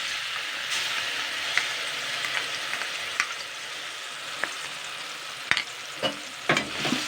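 Spices and kasundi sizzle in hot oil in a pan for a rohu fish curry, a steady frying hiss broken by scattered sharp scrapes and clinks of a spoon stirring, fairly quiet and close with no talk.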